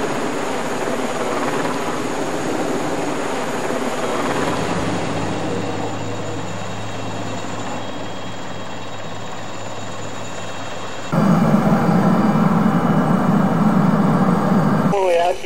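An aircraft engine drones steadily at liftoff, then a louder, rougher engine roar cuts in near the end, with someone narrating over it.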